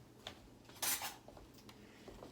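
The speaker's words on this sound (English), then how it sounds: "So let me grab a spoon." A metal spoon taken from a set of cutlery in a kitchen while making hummus with tahini: one brief, bright clatter of silverware, followed by a few faint small clinks, with no talking.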